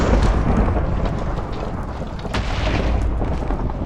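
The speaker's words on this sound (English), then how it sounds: "It's gonna do its summoning thing for this winged fire demon" Summoning ritual for a winged fire demon in modded Minecraft, Agrarian Skies: a dense, continuous rumbling roar, like thunder or an eruption, loud and sustained throughout with no talking.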